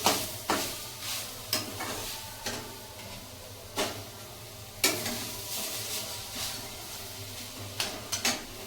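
Grated coconut and jaggery stirred in a hot pan, with regular scraping strokes of the spoon against the metal over a soft sizzle, close and moderately loud, with no talking.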